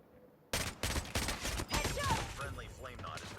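Rapid gunfire from a Chicom QCW-05 submachine gun in the mobile shooter Call of Duty Mobile, loud repeated bursts of shots with short gaps between them, after a brief quiet start.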